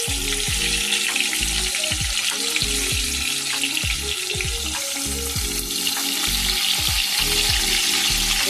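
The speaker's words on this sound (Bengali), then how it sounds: "সবকটা একই পদ্ধতিতে তৈরি করে তেলের ওপর ছেড়ে দিলাম বন্ধুরা।" Pieces of Bombay duck (loitta) fish frying in hot oil in a kadai for crispy chilli loitta, a dense continuous sizzle with bubbling pops, close and alone.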